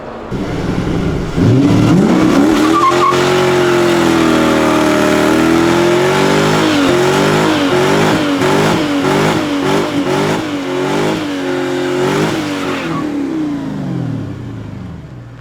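A Mercedes S500 fitted with a manual gearbox revs hard while drifting, its loud, close engine note rising and falling in repeated surges, with broadband tyre hiss running underneath for most of the run.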